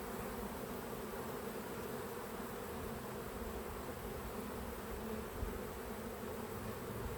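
Honeybees buzz steadily inside an opened hive, a dense, continuous close-up drone of many insects with no pauses and no talking.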